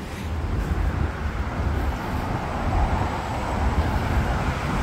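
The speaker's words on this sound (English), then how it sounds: "if you hear like a lot of like background noise, it's just buzz because there's so many buses" Steady broadband roadway rumble of passing buses and traffic on a South Korean street, with gusty wind noise washing over it throughout, no talk.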